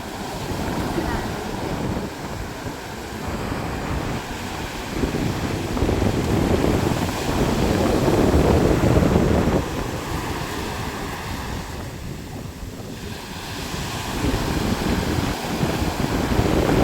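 Sea waves washing onto a beach in the wind, a rumbling surf that swells and eases in long surges, with wind buffeting the microphone close up.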